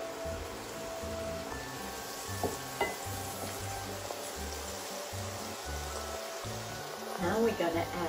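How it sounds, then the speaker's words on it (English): Leeks sweat in a pan with a steady soft sizzle, and a spoon stirs them now and then. The cooking sounds stay moderate and close throughout, with a brief louder scrape of stirring near the end. "So our leek, we just want them to sweat, not to cook too much"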